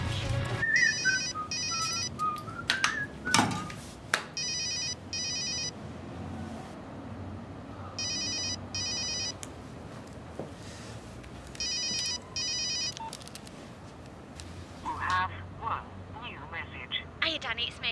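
Mobile phone ringtone ringing in a home, a repeating electronic tune in regular bursts separated by short gaps, with people talking and moving around it.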